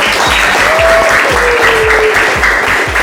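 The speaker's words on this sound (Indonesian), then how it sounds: "Give applause" An audience of schoolchildren and teachers claps in a classroom at an elementary school, a steady burst of applause lasting about three seconds with a thin whistle-like tone and soft thumps underneath.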